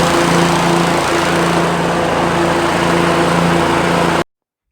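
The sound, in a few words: self-propelled lawn mower engine running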